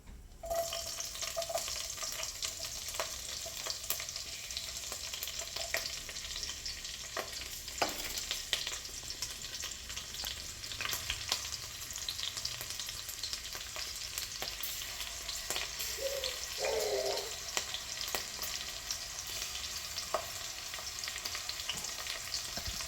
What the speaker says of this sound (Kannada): ಇಲ್ಲಿ ಎಣ್ಣೆ ಕಾದ್ಮೇಲೆ ನಾನು ಇವಾಗ ಹೆಚ್ಚಿಟ್ಕೊಂಡಿರೋ ಮೆಣಸಿನ್ಕಾಯಿನ ಹಾಕ್ಕೊತಾ ಇದ್ದೀನಿ.